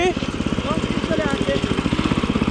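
A walk-behind tractor (motocultor) engine runs near and loud, left idling, with a steady rapid putter and faint talk drifting over it.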